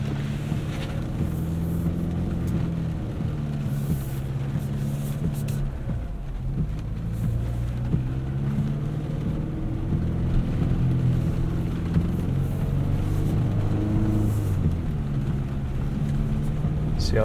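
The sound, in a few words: 2025 Chevrolet Colorado ZR2 Bison truck crawling up muddy hill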